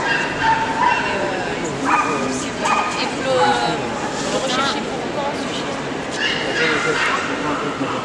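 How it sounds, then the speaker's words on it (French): Bernese mountain dogs at a puppy show bark, yip and whimper continuously amid a busy indoor crowd, with people talking throughout. "Ce sont des bouviers bernois."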